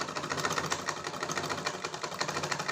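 Sewing machine stitching a blouse, a steady rapid mechanical whir with even pulsing beats throughout, close and continuous with no talk.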